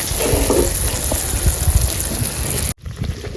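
Ariselu, jaggery rice cakes, frying in hot oil with a loud, steady hiss and bubbling crackle that cuts off abruptly near the end.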